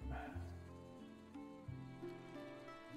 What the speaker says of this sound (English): I hear some movement among the dogs